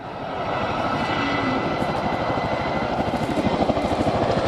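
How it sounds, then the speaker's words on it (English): An RAF Chinook twin-rotor helicopter flies a display at an air show, its loud, steady rotor thump beating fast and continuously and swelling slightly toward the end. "All of us on 27 Squadron are proud to bring you the 2018 Chinook display in the RAF's 100th year."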